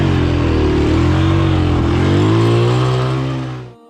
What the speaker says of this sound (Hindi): अब्दुल बसीर की बाइक रेत में फंस गई है।